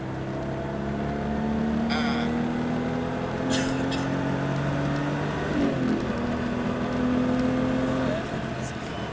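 A car engine on a driving lesson rises and holds in pitch as the learner accelerates, a steady close drone with gear-change dips, while an instructor speaks over it.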